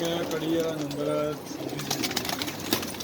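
Pigeons coo in a loft being readied for flying, several soft rolling coos near and clear at first, then fainter bird sounds among rustling and background chatter.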